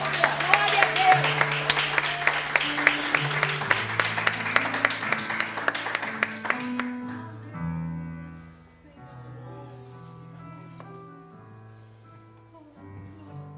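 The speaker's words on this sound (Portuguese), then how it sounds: "Pode aplaudir o Senhor." A church congregation applauds the Lord at an evening service, and the dense clapping over keyboard music fades out about halfway, leaving the music playing on alone.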